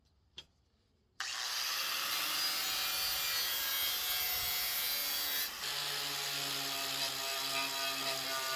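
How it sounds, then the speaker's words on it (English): A saw made for cutting steel bites through quarter-inch steel plate, a 15 by 18 inch base for an engine and alternator. After a single sharp click, a steady, harsh grinding rasp runs continuously, close and fairly loud, with no speech. "I'm using a saw specifically made for cutting steel plate"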